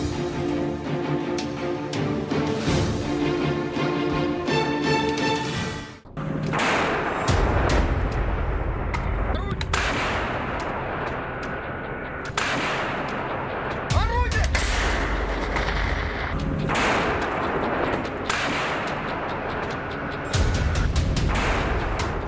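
Heavy explosions and artillery-like blasts from war footage, loud and close, arriving as repeated booms with rumbling tails over a continuous noisy backdrop.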